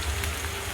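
Curry leaves hit hot oil and give off a dense, even crackling hiss, like rain on a surface, loud and close for under a second with no voices.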